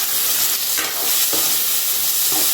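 Tomatoes go into a hot frying pan with a loud, continuous hiss and sizzle that hold steady, plus a few faint clinks, near and with no voices.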